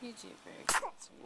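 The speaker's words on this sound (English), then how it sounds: "Ooh, sneeze. Ooh, double." A baby boy gives one sharp, close sneeze between soft words from someone speaking gently to him.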